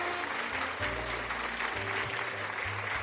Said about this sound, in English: I'm just going to give you a round of applause